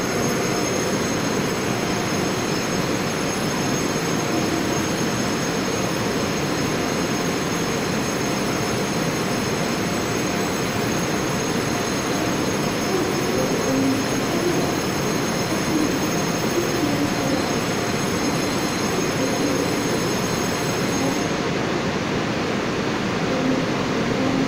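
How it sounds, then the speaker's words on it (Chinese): EMU commuter train, a mixed eight-car set of EMU568 and EMU553 units, pulling out of Kaohsiung station in Taiwan. A loud, steady rumble of wheels and motors with faint squeal runs throughout, heard close and without talk. "在高雄站准备驶离，本次列车已经停靠高雄到那个嘉义区间中午的各站均有停靠。"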